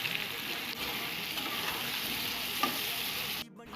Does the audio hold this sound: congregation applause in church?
no